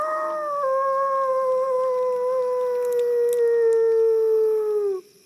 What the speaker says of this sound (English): The sound of responsive howls sends the rest of the gang fleeing in fright